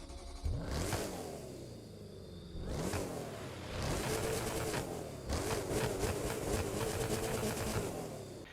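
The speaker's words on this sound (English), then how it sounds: "let's take a listen to that engine." Porsche Cayenne Turbo GT engine in the racing game The Crew 2, revving in repeated bursts with rising whooshes and a steady mid-pitched roar in between, loud and alone.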